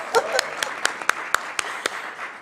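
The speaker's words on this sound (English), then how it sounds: "Clap for us." A conference audience claps in short, evenly spaced bursts, a light scattering of hands rather than a full ovation, fairly quiet and close.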